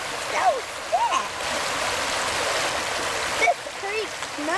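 A creek flows and rushes steadily in a children's animated story about water pollution, a continuous broadband wash broken by a few brief chirping tones.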